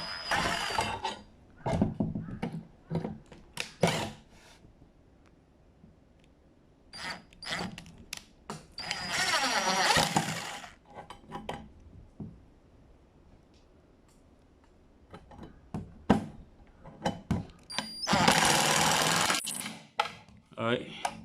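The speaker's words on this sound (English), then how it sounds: "So now, of course, I use my drill. I'm just putting a screw here." A power drill whirs in several short bursts and a couple of longer runs, with quiet handling noises and pauses between them.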